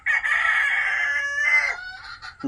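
A rooster crows at home, one long loud close cock-a-doodle-doo that fills most of the moment, trailing into a shorter final note, with no talking.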